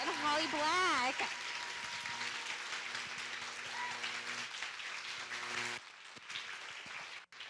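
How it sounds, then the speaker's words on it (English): Audience applause at a live Barnes & Noble book event with authors Naomi Novik and Holly Black, a loud sustained burst of clapping that starts with a spoken voice over it, then thins out and fades over several seconds. "could you please give another round of applause to Naomi Novik and Holly Black"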